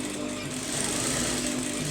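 A sewing machine stitches neck design fabric pieces, a close, steady mechanical buzz with a fast stitching rhythm that carries on through the whole short moment.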